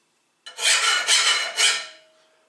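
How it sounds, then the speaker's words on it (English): A metal file scrapes along a mild steel weld beside hardfacing in three quick rasping strokes, close and loud, with a faint ring after the last stroke. "See if I can file off the side of the mild steel."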